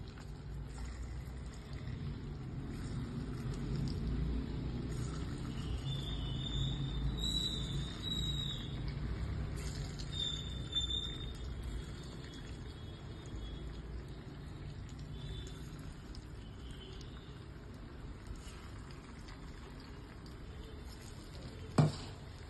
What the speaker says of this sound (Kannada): ನೋಡಿ ಹಿಂಗೆ ಕ್ರಿಸ್ಪಿಯಾಗಿ ಫ್ರೈ ಮಾಡ್ಕೋಬೇಕು ನೀವು.